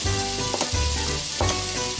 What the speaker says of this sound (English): get these sweated down, these onions